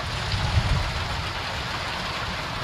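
Steady rain falling and dripping outdoors during a catch-and-cook session, a dense continuous patter with a low rumble beneath it, fairly loud and without voices.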